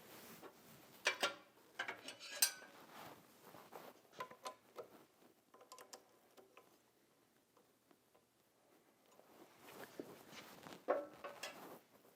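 A crank handle turned by hand on a MAG-8200 or MAG-8100 lawn mower blade sharpener. Close, quiet ratcheting and gear clicks arrive in uneven bursts and pauses, with no talking.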